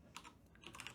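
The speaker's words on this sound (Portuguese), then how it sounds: "Para isso eu vou digitar aqui no terminal" Quick, light keystrokes on a computer keyboard enter a command in a terminal, a close run of crisp taps and clicks with no talking.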